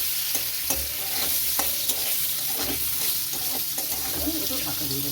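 Potato pieces fry in a pan with a steady moderate sizzle and repeated stirring scrapes, close and clear, with no talk over it.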